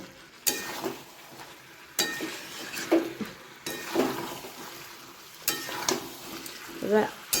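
Chicken curry with chicken masala sautéed and stirred in a pan over raised gas heat: soft sizzling under repeated scraping and clinking strokes of a spoon, with a few louder bursts spread across the stretch.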